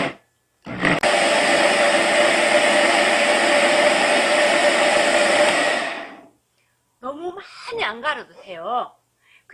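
A kitchen blender grinds magnolia flowers for homemade persimmon-vinegar-based magnolia vinegar, a loud steady roaring whir running about five seconds before cutting off, followed by someone talking.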